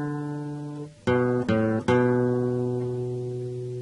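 Guitar picks a phrase on the fourth and fifth strings: a held low note, then three sharp plucked attacks about half a second apart, the last ringing out and fading. No voices.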